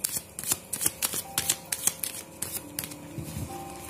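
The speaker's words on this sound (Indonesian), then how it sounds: "saya keluarin kartunya lebih dahulu" Tarot cards handled and laid out for a reading, producing a quick series of crisp paper snaps and flicks close to the microphone, in an otherwise quiet room.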